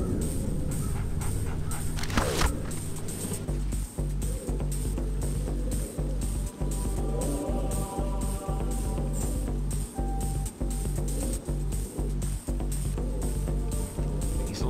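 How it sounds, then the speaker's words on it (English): A dog in the Splinter Cell video game, Presidential Palace mission, pants in a steady rapid rhythm with quick sniffs while tracking a scent, close and fairly quiet over a low game-ambience hum. "Stupid dog."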